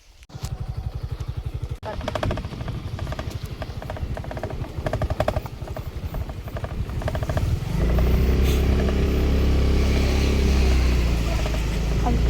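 A motorcycle engine idles with a steady rapid chug, then rises to a louder, fuller drone as the bike pulls away on a farm outing, close by, with people talking over it.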